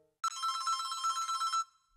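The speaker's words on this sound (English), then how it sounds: "Huh? A phone call?" A telephone rings in one steady electronic trill lasting just over a second, clear and alone in a quiet room, followed by a short fading tail.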